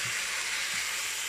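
Caramel pork cooks in a pan with a steady, close sizzling hiss that carries on without a break for about a second.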